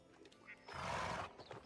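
A donkey braying in the Medieval Dynasty video game: a short, strained, loud call in the middle of the stretch, set against faint game ambience with no voices.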